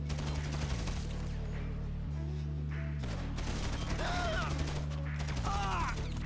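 Sustained gunfire rattles through a Grand Theft Auto Online shootout at a nightlife venue, with rapid bursts over droning in-game music and a few sharp metallic zips, loud and continuous throughout.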